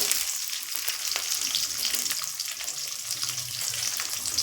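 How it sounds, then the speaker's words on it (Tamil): Onions and green chillies frying in a pan with ginger, garlic and curry leaves for Bombay sambar, a steady close hiss of sizzling oil with faint stirring, no voices. "இப்போது வெங்காயம்லாம் எல்லாமே வெங்காயம் பச்சை மிளகாலாம் சேர்த்துக்கலாம்."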